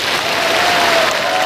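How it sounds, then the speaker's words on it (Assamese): Sustained applause from a large crowd at an outdoor political rally in Dhemaji district, Assam, with dense steady clapping throughout. "ৰাইজৰ এটা দীঘলীয়া হাত চাপৰি মাৰক"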